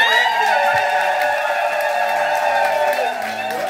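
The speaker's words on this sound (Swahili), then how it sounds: "Naomba tumshangilie Mungu kwa makofi" A church congregation at a Sunday Mass in the Easter season breaks into loud, sustained cheering and applause, with high voices held over steady clapping.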